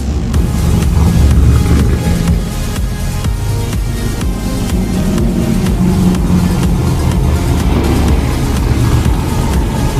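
Corvette cars racing at a drag strip, a loud, unbroken engine roar mixed with gusty wind buffeting across the whole stretch.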